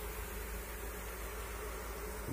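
Honey bees from a captured swarm in a trap hum and buzz as a steady, dense drone with no pauses, faint and constant throughout.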